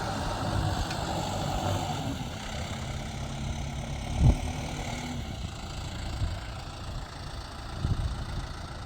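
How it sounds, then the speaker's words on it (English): A tractor engine idling on a sheep and hay farm during summer baling, a steady low rumbling drone at moderate distance with a few brief louder knocks and thumps over it, no talking. "he's gonna hook up the tractor"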